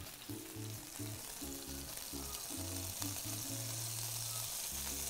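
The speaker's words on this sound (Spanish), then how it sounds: "Porque quiero sellar mi carne." Meat searing in a hot pan gives a steady, close, crackling sizzle throughout, with a musical tone playing beneath it.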